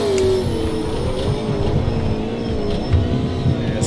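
A Porsche race car engine in a racing video game howls loud and close, holding a high strained rev with slight pitch wavering and a low rumbling undertone, with no voices.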